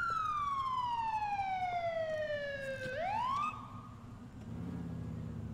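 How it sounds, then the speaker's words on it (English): Police car siren in the GTA LCPDFR game: a long descending wail that then rises sharply and cuts off, followed by a low engine rumble, loud and close. "I'm gonna get my siren."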